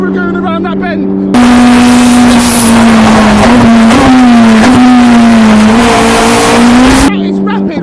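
Race cars at the Japfest Silverstone 2024 time attack scream through a bend at speed, a loud, high engine note rising and falling with gear changes, with faint tyre squeal and brief talk at the start and end.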